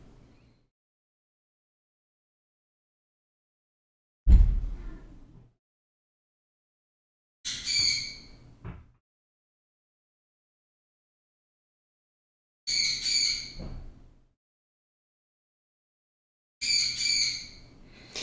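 A pet bird gives four sharp squawks spaced a few seconds apart in a quiet room, each call short and loud with a brief rasping tail.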